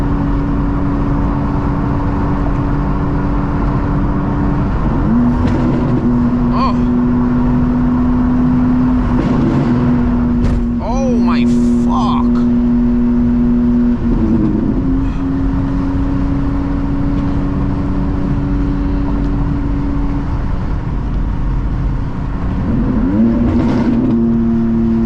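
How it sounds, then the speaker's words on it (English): A 600HP manual BMW M2 drones steadily inside a tunnel, its engine note shifting sharply several times as it downshifts and blips the revs, loud and close with no talking. "Shift under the tunnel action, chat. You like that? Eh? Little downshift under the tunnel."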